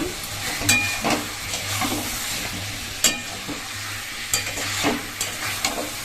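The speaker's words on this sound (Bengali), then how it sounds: "এবার হচ্ছে ডিম আর আলু একসাথে দিয়ে কষিয়ে নেব" Egg and potato stir-fried with spices in a pan make a steady close sizzle, with repeated scraping and clacking of a spatula stirring against the pan at irregular moments.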